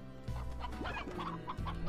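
Chickens in the Slime Rancher video game clucking close by, a run of short, bright clucks and squawks with a few rising calls, no voices over them.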